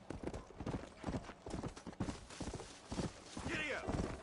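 Horse hooves clip-clopping in a steady rhythm in the video game Red Dead Redemption: Undead Nightmare, close and loud with a brief whinny near the end, someone talking over it.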